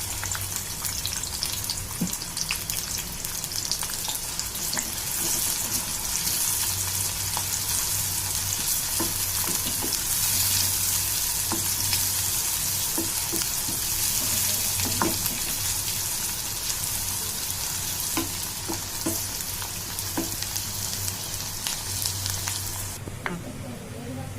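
Finely chopped green chillies and onion pieces fry in hot oil, a steady close sizzle with scattered stirring clicks and spatters that fades slightly at the end.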